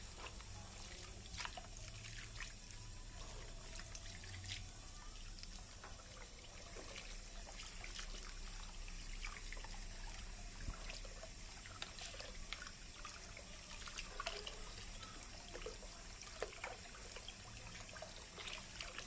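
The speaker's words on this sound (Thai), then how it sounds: "ล้างออกเททิ้ง มีน้ำขาวเลย" Cloudy water from washing old sticky rice for Thai sweet rice wine is poured off, making a faint, continuous trickle and splash that carries on without talk.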